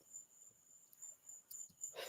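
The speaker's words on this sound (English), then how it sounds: "crickets are fucking crazy, so crazy" Crickets chirp at night in a thin, high, steady trill that repeats in pulses, faint and distant against a quiet background with light rustling.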